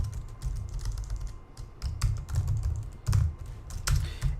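Python GTK code is typed on a computer keyboard in quick, irregular bursts of close, crisp keystrokes with brief pauses between groups, and no one speaks.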